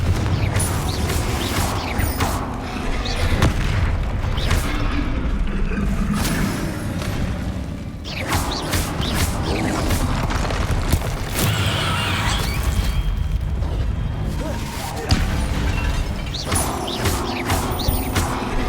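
Confringo spell blasts in the action game Hogwarts Legacy burst amid busy combat, with loud crashes, whooshes and impacts recurring over a dense, continuous game soundscape and no talk.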